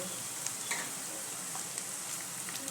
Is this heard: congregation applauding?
no